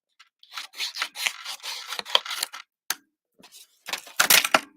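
Paper scissors trim the bottom edge of a punched paper leaf in a run of quick, close, crisp snips and rasps, with a brief pause before a final burst of cutting. No one speaks.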